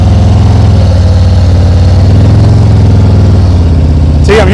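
A motorcycle engine running loud and close with a steady low throb from a stop during turn practice, with a brief sharp burst near the end.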